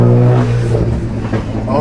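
A straight-piped 2008 BMW M135i coupe engine roars loudly and steadily from inside the car, a deep sustained drone with a person talking over it.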